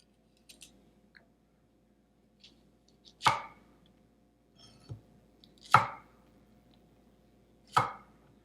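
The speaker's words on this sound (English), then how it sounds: "So all this part you can cut however you like. This is very small, so I'm only gonna cut like once or twice." Knife chopping green onion for Korean pork bulgogi: a few faint taps, then three loud, well-spaced cuts through the stalks onto a cutting board, close by with quiet pauses between.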